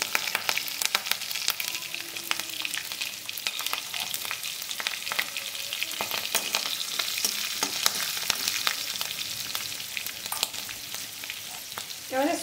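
Green chilies and greens for a vegetarian pui shak chorchori fry in a pan with a dense, steady sizzle, punctuated by frequent stirring scrapes and clinks, with no talking.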